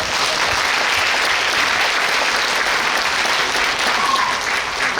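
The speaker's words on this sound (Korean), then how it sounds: "큰 박수 부탁드리겠습니다." A packed book concert hall breaks into loud, sustained applause from a large crowd, an even, continuous roar of clapping lasting the full five seconds.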